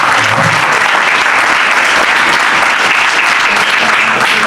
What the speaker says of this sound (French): Donc on peut applaudir le père et le fils aussi.